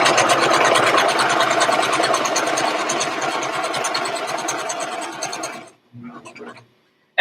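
A home sewing machine stitches a DIY fabric face mask with a filter pocket and nose wire, a close, rapid, even motor whir that runs steadily, slows, then stops, followed by a few brief mechanical clicks.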